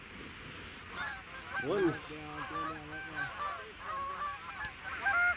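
Geese honking repeatedly during a goose hunt in a snowstorm, a flock calling in overlapping nasal honks, fairly close and loud, with a brief spoken word.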